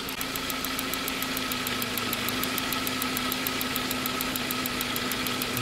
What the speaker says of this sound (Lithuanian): Vis tiek man atrodo purtas tas variklis